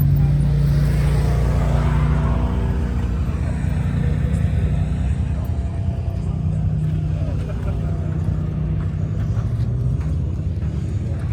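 A custom sand truck with Skyline GTR taillights idles and rumbles steadily at close range in the dunes, deep engine drone continuous throughout.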